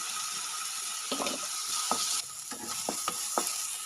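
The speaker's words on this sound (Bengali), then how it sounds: "পেঁয়াজগুলো ভাজা ভাজা হয়ে গেছে।" Onions frying in oil and ghee with a dried red chilli and cumin seeds, giving a steady close sizzle broken by a few sharp scraping stirs of the pan.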